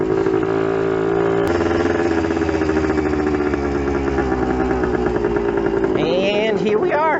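A Yamaha enduro motorcycle, back on the road after twenty years of sitting, runs with a steady loud engine drone and rattling clatter on a rough ride, with a rising rev near the end.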